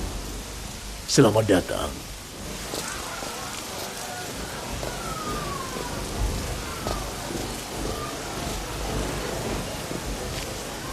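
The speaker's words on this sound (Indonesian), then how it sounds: "Lihat hujan ini." Steady rainfall hisses throughout, with a sharp crack of thunder early on and a faint rumble later, while a voice speaks briefly.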